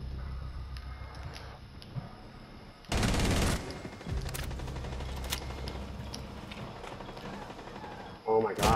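Rapid automatic gunfire in Rainbow Six Siege erupts in a loud burst midway, with scattered shots and clicks before and another burst at the end, while players talk excitedly over it.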